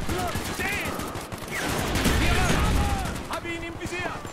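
Bursts of gunfire crackle in a Call of Duty Black Ops mission, a dense, loud volley of shots that peaks in the middle while a player talks over it.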